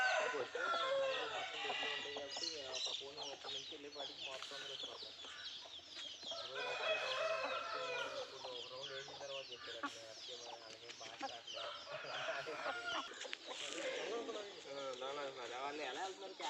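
Fighting roosters kept by a breeder cluck and crow in a pen, their calls running continuously beneath someone talking.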